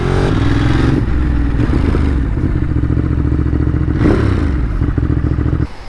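A Ducati Monster 937 fitted with a Termignoni exhaust runs loud and close, a continuous throaty engine roar with mechanical clatter that swells briefly near the end before dropping off.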